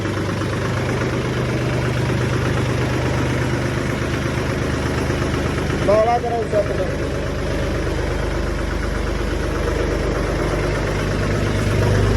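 A tractor engine idles at a mechanic's workshop with a steady low chugging rumble, close by, while people talk over it.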